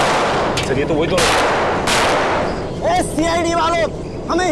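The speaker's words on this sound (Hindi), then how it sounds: "संभाल के गोली चलाना, काफी लोग हैं यहाँ।" Gunfire in a tense standoff with a gangster, several sharp bursts of shots ringing out while people shout and talk over them.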